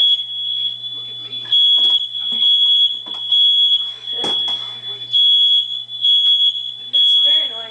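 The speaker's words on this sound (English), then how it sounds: "That would be my smoke alarm." Shrill high-pitched smoke detector beeps repeat insistently in a home, loud and close, while a person talks throughout.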